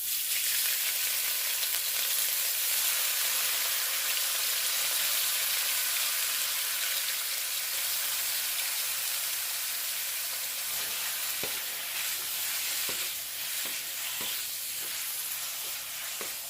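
Beef for spicy Mongolian beef sizzling in a hot wok, a steady bright hiss of frying that runs continuously, with a few soft stirring clicks and taps toward the end.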